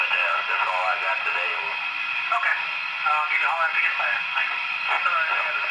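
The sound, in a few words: radio chatter sound effect from HO scale locomotive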